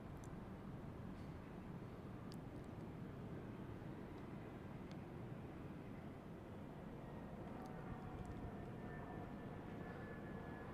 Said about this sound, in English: So the KLM holding for the British Airways City Flyer to land. That's just coming over the city now.